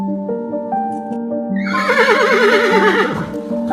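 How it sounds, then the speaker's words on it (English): A horse gives one loud, wavering whinny that rises and falls for over a second, heard over light background music. "Horse."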